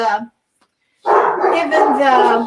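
Dogs barking loudly indoors at someone at the front door, with a short yap, a brief pause, then a sustained volley of close, harsh barks.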